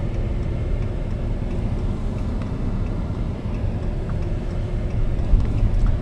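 Dodge Ram Hemi 5.7 liter short bed two-door truck engine from a 2014 model, a steady low rumble with road noise, continuous and fairly loud throughout.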